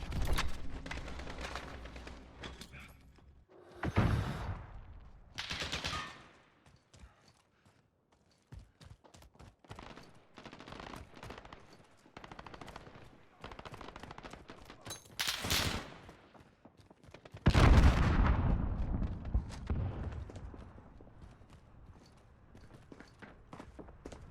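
Gunfire in the video game Call of Duty Modern Warfare: scattered shots and bursts through a fight, with a few louder close volleys standing out over constant battle noise and footsteps.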